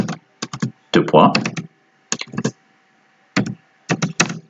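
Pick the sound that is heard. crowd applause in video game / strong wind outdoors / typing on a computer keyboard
typing on a computer keyboard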